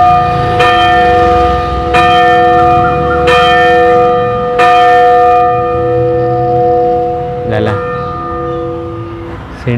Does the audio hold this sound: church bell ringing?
yes